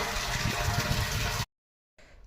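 Water gushes from a farm pipeline with a broken line below, a strong steady rushing flow that cuts off abruptly, then returns faintly after a short silence.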